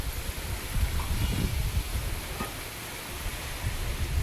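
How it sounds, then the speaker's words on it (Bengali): A heavy rain shower pours down in a steady broadband hiss with low rumbling patter, continuous and fairly close. "জোরে আবার এক ছড়া বৃষ্টি এসছে"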